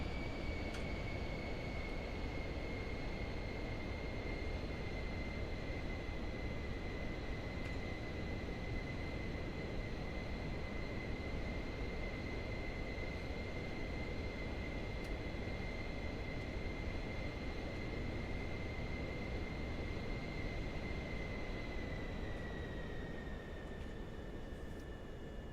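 Aircraft engine on landing approach in Microsoft Flight Simulator 2024, gear up and flaps at 2. A steady, continuous engine drone with a sustained high whine holds for the whole stretch, unchanging and without talk.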